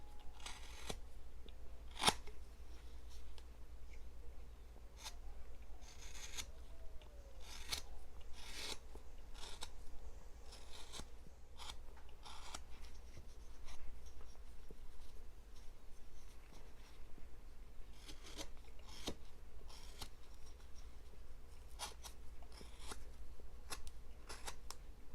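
A whittling knife shaves end grain on a small carved wood gnome figure, cleaning off bandsaw marks; quiet, close scraping and rasping cuts come in irregular short strokes with no talking.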